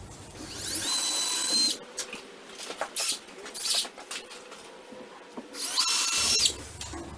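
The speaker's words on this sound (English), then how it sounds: "Now I'm simply going to drill the holes into the drywall." Power drill boring holes into a drywall ceiling during a garage light fixture installation, heard as two loud whining bursts at the start and end with short clicks and knocks between them.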